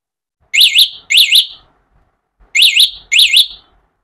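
An anti-theft alarm on a TVS 50 electric-converted bike, set off from a remote, gives two pairs of loud, warbling electronic chirps, each pair a rapid double burst, with brief quiet gaps between.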